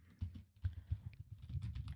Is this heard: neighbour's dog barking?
no